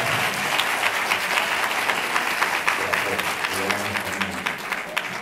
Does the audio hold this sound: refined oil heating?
no